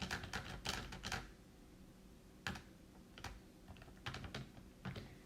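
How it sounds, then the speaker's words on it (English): Quick button presses on a calculator keypad, a few irregular clusters of soft, close clicks with short pauses between. "if we type this directly into our calculator as we see it"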